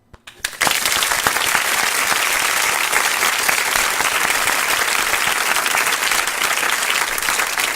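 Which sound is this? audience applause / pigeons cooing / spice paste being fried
audience applause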